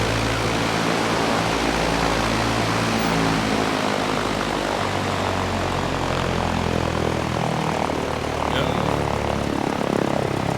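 Steady, loud droning propeller and engine noise from a Cessna 172R in Flight Simulator X fills the whole stretch without pause, with a slight shift in tone near the end.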